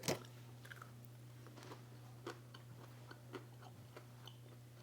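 Faint, close chewing of pistachio butter milk chocolate snack bites, with soft crunchy bites spaced about a second apart over a steady low electrical hum and no talking.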